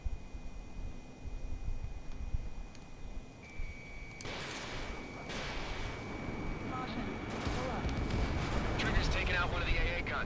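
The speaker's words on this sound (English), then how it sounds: "Spare 15, missile away." Missile strikes and explosions in the jet combat video game Ace Combat 7, a dense rumbling roar of blasts over steady engine drone that swells after the first few seconds and keeps building, with a voice talking now and then.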